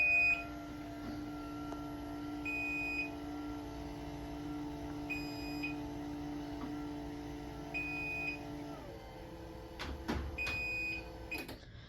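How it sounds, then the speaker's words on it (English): A LiftMaster 8550W garage door opener runs on battery power, giving short high-pitched beeps every few seconds over a steady motor hum that drops off near the end, followed by a couple of faint clicks. "The machine beeps when it's in battery mode."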